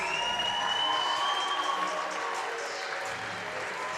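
A big crowd at a high school boys wrestling meet on youth and alumni night claps and cheers steadily, a dense sustained wash of applause with a whistle-like tone rising through it.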